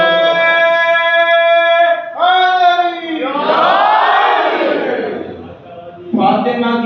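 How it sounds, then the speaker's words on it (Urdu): Congregation at a Shia majlis commemorating Fatima chants slogans in loud unison, rising voices swelling together, with a brief dip and a fresh burst of massed chanting at the end. "اگر آپ کے بدن کو طاقت ملی ہے اس ذکر سے تو پھر مل کر نعرے سنائیے مجھے"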